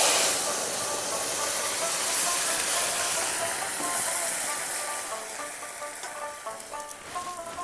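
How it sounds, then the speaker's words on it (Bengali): Steamed potato leaf greens dropped into a hot pan with fried crushed garlic, giving a loud, broad steady hiss that slowly fades, with faint clinks near the end. "শাকগুলো দিয়ে দিচ্ছি।"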